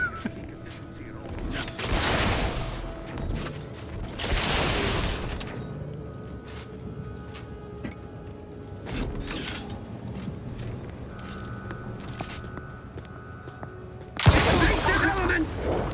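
Shotgun fire in the video game Outer Worlds 2 comes as a few separate loud blasts, each a dense burst with a short tail, spaced several seconds apart over low game ambience.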